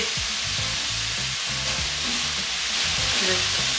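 Mauritian fried rice with mushrooms crackles and sizzles steadily in a hot pot while being pushed and stirred with two spoons, with soft music playing underneath.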